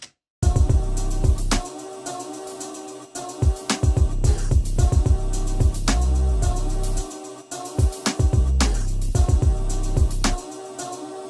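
A remake of a hip hop instrumental beat with punchy kicks, deep bass and a steady groove, played loud with brief drops where the drums cut out.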